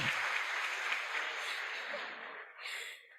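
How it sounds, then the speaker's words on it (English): An audience at a public debate gives a round of applause, dense and steady clapping that fills the room and then tapers off to near silence near the end. "I think he deserves another round of applause"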